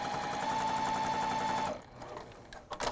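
A sewing machine chain sewing quilt pieces cut with a half-hexie jelly roll acrylic template. It runs in a steady, close, rapid whirring stitch for under two seconds, then stops, leaving faint handling clicks and rustles.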